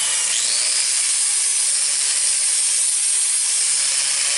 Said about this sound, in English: what I gotta do is sand this and try to bevel this area down